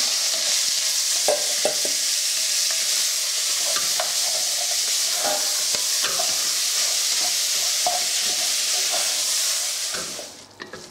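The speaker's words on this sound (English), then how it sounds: "I'm just going to brown off my mince" Beef mince browns quickly in a hot pan for lasagna after bacon has been fried in it, giving a loud, steady sizzle and hiss with intermittent spatula scrapes and stirs, close by, fading out at the end.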